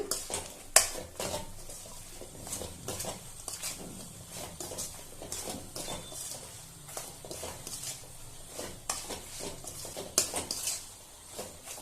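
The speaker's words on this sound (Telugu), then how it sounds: "ఇప్పుడు ఈ మసాలా అంతా ఈ గుడ్లు పట్టేలాగా కలుపుదాం" Fried eggs are stirred into masala in a metal pan, with a steady run of scraping, clinking spoon strokes over a faint sizzle lasting several seconds, close and moderately loud.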